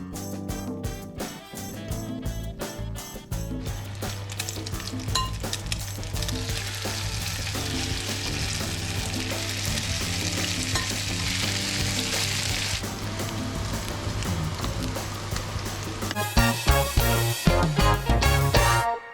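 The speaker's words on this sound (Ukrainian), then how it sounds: "Гарно вимішуємо і смажимо." Steady, busy sizzling of potato pancakes frying in hot oil in a pan, close up, continuing throughout with occasional louder crackles and pops near the end.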